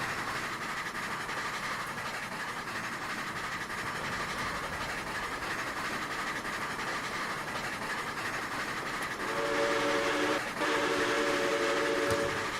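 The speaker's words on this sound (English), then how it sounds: "That's the only problem with this model is that the whistle cuts out right there" A steam locomotive on a C&O coal run in the Trainz simulator, rolling rail noise carrying steadily before a loud multi-tone whistle sounds near the end, breaking off abruptly in the middle and then resuming.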